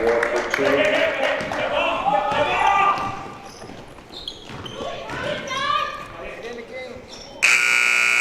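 A loud electronic buzzer sounds at the end of a quarter in a women's college basketball game, cutting in sharply after an announcer's excited commentary and crowd noise.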